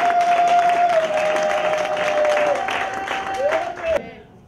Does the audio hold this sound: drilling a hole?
no